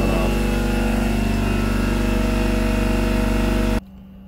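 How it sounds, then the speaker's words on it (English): An air compressor runs with a loud, steady mechanical hum and drone nearby, then shuts off abruptly near the end, leaving a quiet room. "my air compressor just went off"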